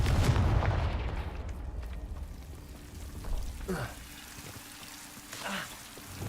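The Confringo explosive spell in Hogwarts Legacy sets off a deep, rumbling blast at the start, followed by a couple of smaller whooshing bursts, with a voice calling out over the game sounds.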